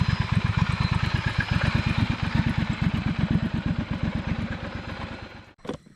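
Triumph Scrambler 1200 XC motorcycle engine running steadily close by with a rapid, even low thump as it rides off, ending in a brief clunk and near silence.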